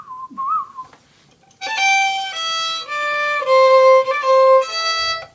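A few faint chirpy whistles open, then bright, high sustained violin notes from Grieg's Morning ring out in a short melodic run, sounding birdlike and whistle-thin.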